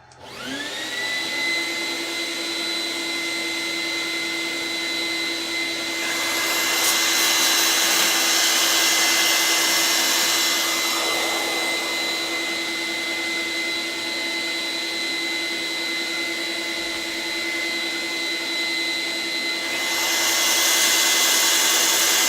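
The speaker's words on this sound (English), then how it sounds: "Going to get a bit of dust extraction, although it's not brilliant." A dust extractor runs with a steady high-pitched whine and airy roar, surging louder twice as the suction changes; no voices.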